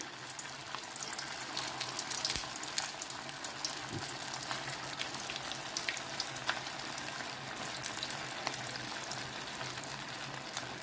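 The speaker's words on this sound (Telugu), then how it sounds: "నూనె మరిగిందండి ఇగో ఇక ఒక్కొక్కటి మెల్లిగా వేయించుకోవాలి" Semiya burelu dumplings deep-frying in hot oil over a low gas flame, a steady dense sizzle and bubbling that stays even and close throughout with no talking.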